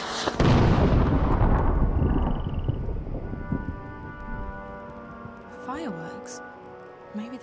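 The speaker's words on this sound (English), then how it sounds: "Fireworks? Maybe they're celebrating something." Fireworks in the video game Dreamfall: The Longest Journey open with a loud, booming burst that rumbles and fades over several seconds, followed by faint game sounds and chirps.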